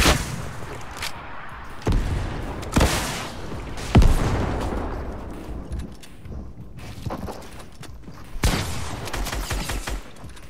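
Sniper gunfire in a video game: sharp, loud single shots ring out at irregular intervals, with one heavy crack standing out among several reports and quieter rumbling action between them.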